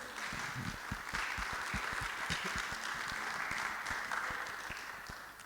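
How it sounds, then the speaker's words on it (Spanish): Audience applause welcoming psychologist Daniel Sepúlveda to a mental health congress depression workshop: steady, dense clapping from a room of people holding even for several seconds, tapering slightly at the end. "vamos a dar la bienvenida con un fuerte aplauso al hermano Daniel"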